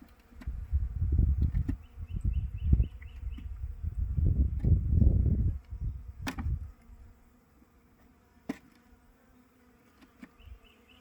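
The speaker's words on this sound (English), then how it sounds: "There's a couple bees stuck between the mesh and the front of the hive." Honeybees buzzing at a nuc hive, some trapped between the mesh and the hive front, make loud, dense, close swarming drones for about six seconds, then fade to a faint, scattered hum.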